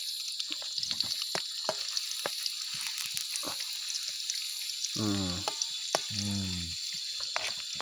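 Food sizzling in a pan over an open fire in a forest at night, a continuous crackling hiss with scattered pops, while frogs or insects call and a voice speaks briefly.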